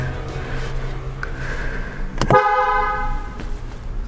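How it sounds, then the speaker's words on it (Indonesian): A 2023 Rolls-Royce Phantom 8 Series 2 sounds its horn in one firm, rich, chord-like honk that starts midway, rising out of a low background hum and ringing on for a second or more. "Klaksonnya juga suaranya kayak mahal gitu loh"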